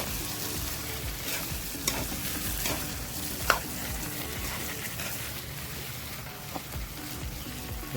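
Rajma curry is stirred in a pan, with soft scraping strokes and a few sharper knocks of the spoon over a gentle, continuous sizzle, fairly quiet and with no talking.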